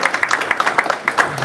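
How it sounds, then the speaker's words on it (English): Scattered claps from a small audience at an investor spotlight event after a startup pitch, sharp and close, sounding sparse and uneven over a brief moment. "let's give him a round of applause"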